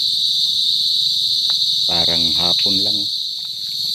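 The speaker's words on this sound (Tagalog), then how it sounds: "ano pa rin yung huni ng mga kuliglig" Steady, high-pitched cricket chirping fills the background continuously, while someone speaks briefly over it.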